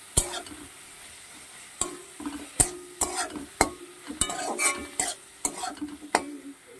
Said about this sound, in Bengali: আর এরকম পেঁয়াজ টমেটো কাঁচা লঙ্কা একসঙ্গে ভালো করে কষতে হবে বন্ধুরা।